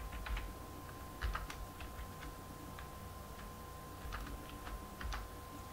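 Keys on a computer keyboard clatter in quick irregular bursts as JavaScript code is typed, moderately close over a steady faint hum, with no talking.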